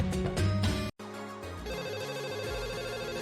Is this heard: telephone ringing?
yes